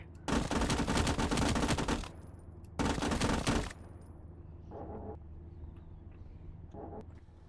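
Sustained automatic gunfire in the World War II game Call to Arms: Gates of Hell comes as two loud, dense bursts, followed by quieter distant shots and rumbling battle noise.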